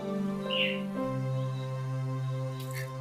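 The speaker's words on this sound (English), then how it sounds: "Birds began to sing" Birds sing over a sustained musical bed in a children's storybook tale, a few short chirps and a brief trill standing out faintly above the steady tones.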